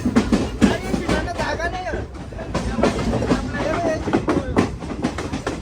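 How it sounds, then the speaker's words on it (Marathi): Inside a moving train headed to Gokarna, the wheels clatter and rumble steadily under almost constant nearby chatter from passengers. "चला चालले आमची ट्रेन मस्त पैकी."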